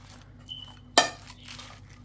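A single sharp clink of a spoon against a bowl while green salad is tossed with seeds and toppings, with a faint thin tone just before and a quiet room hush around it.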